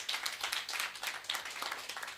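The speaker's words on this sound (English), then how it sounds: "Can we please give them a round of applause?" Applause for caregivers at a childcare forum: a room of people clapping steadily, soft and slightly distant, a dense patter sustained for a couple of seconds.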